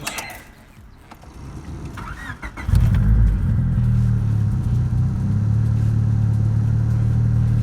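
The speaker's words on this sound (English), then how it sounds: "And now we're going to try to fire it up." A turbocharged Honda Civic engine cranks and catches, then settles into a loud, steady, slightly uneven idle close by after a few seconds of starter noise.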